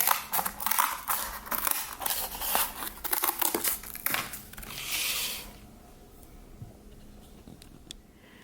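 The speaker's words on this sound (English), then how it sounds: "Just cut a triangle right from your box." Scissors snip and crunch through a cardboard box to cut out a triangle for a gnome ornament's hat, a close, busy run of cutting and crinkling for about five seconds before fading to quiet.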